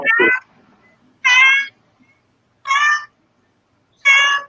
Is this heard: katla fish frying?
no